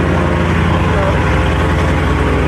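A Dodge Hellcat engine idling loudly, a steady deep rumbling drone that holds unbroken and close throughout.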